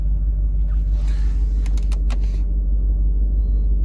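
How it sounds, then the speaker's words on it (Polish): Electric parking brake motor whirring on a 2005 Audi A6 C6 with the BAT engine and a parking brake fault, only the left-side motor running, a short buzzing burst over a steady low rumble, close and fairly loud. "Słychać, że motorek pracuje, ale tylko jeden."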